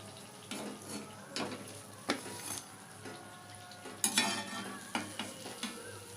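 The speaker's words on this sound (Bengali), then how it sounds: "আরও বাকি পেঁয়াজগুলো আমি ভেজে নেব।" Onion pakoras frying in oil crackle gently with bursts of sizzling and stirring or scooping noises, intermittent and close but fairly quiet.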